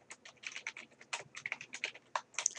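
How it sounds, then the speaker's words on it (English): Quiet, close typing on a computer keyboard as text goes into a Word 2013 document, irregular quick keystroke clicks in short bursts, with no one talking. "we are going to type some text into our document at this point"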